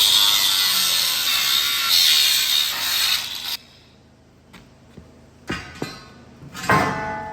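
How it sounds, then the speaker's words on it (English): An angle grinder cuts off a steel bar with a loud, harsh, steady high-pitched grind for several seconds. It then stops abruptly and is followed by a few scattered metallic knocks and clanks in the near quiet. "Grind that bar off now."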